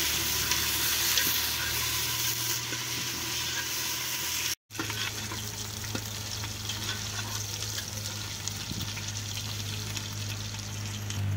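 Food frying in a hot pan for mashed collard greens with paneer, a steady broadband sizzle and crackle running throughout, close and fairly loud, with a brief cut of silence partway through.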